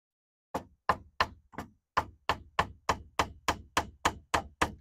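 A wooden dowel tapped into a hole with a series of sharp, close knocks, about a dozen evenly spaced hits over a few seconds, each ringing slightly more solid as it tops out.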